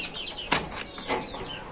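Male pigeon just released into a cage, giving a brief burst of frightened wing flapping and scuffling, close and moderately loud, with no talk.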